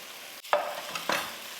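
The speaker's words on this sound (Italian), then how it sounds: "Una mescolatina" A spoon stirs pumpkin risotto in a pot, with a couple of short scraping swishes over a soft, steady simmering hiss and no voices.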